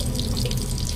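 Water runs briefly from a tap as a little is added to gram flour (besan) to make a face paste, a short, close, steady pour.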